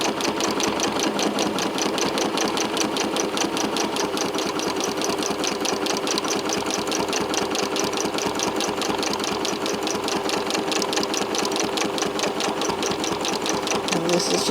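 A sewing machine quilting around applique and embroidery runs steadily for the whole stretch, a rapid, even mechanical chatter, close and constant with no pauses.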